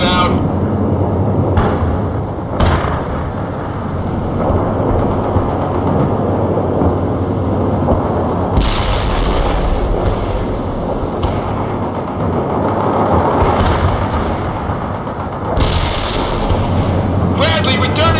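Gunfire and artillery in the World in Conflict war game, a dense sustained roar of booms and crackling shots with sharper blasts around the middle and near the end, while radio voices talk over the battle.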